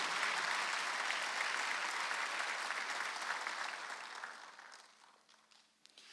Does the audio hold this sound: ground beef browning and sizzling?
no